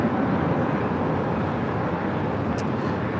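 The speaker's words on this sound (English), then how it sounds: "This is Turkish Airlines Flight 180 departing to Istanbul on a 787-9 Dreamliner" A Turkish Airlines Boeing 787-9 Dreamliner departs Los Angeles for Istanbul, its jet engines a broad, steady roar heard from a distance, mixed with wind noise.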